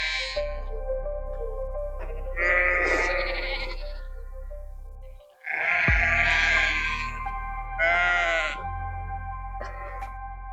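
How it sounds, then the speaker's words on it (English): Sheep and lambs in a field on a Leicestershire countryside walk bleat loudly and close by, several overlapping calls over a steady background rumble. "Look at all the little lambs coming up to see us."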